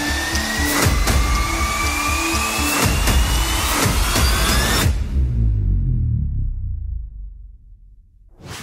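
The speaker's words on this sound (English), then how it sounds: "This machine's so fast, even the metal doesn't know it's been polished." A fast factory machine polishing metal gives a loud, steady mechanical whir with high whining tones and rhythmic clatter. It winds down abruptly to a low rumble near the end.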